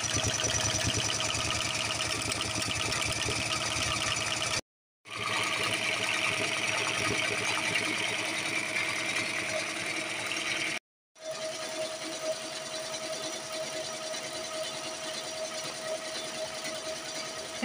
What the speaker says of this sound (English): I am going to rethread the needle and finish stitching it out